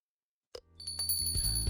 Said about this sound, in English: Your arrival is heralded by the chime of a bell